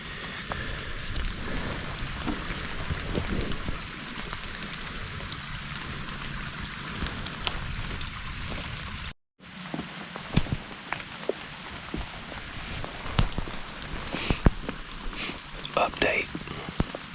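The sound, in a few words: rain falling in the woods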